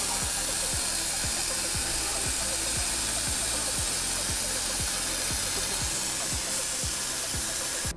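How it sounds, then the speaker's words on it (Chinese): A steam jet blows over coffee beans to moisten them before grinding, a loud steady hiss filling the whole span with a regular low rhythmic pulsing beneath it and no talking. "在研磨之前可以用蒸汽来温润它"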